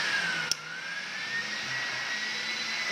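A handheld hair blower dryer runs steadily at close range, giving a continuous airy whir with a faint rising whine and one brief click partway through.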